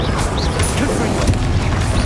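A Confringo spell explosion in the Hogwarts Legacy video game, a loud booming blast with crackling debris, followed by continuous loud rumbling game effects over about two seconds, with no talk.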